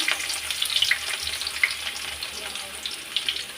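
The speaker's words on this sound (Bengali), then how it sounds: "বাগার দেওয়ার পালা তো তেলটা দিয়ে দিছি দিয়ে কিছু আস্ত জিরা দিয়ে দিলাম" Whole cumin seeds crackle and sizzle in hot oil for a Bengali tempering of thin vegetable khichuri, a dense steady spitting with sharp pops scattered throughout, close and fairly loud with no talk.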